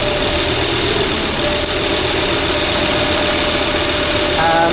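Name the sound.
Volvo engine idling with a cylinder not firing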